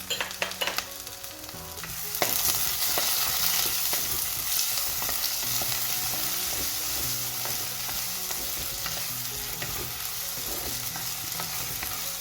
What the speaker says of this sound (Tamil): தக்காளியை போடுறேன்.